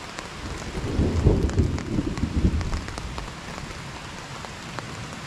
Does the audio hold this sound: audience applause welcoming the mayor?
no